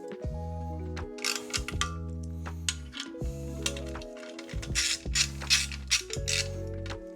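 Ratchet clicking rapidly while tightening bolts on a carbon bodykit for a Rolls-Royce Cullinan, repeated bursts of close, crisp pawl clicks with short pauses between strokes, no talk.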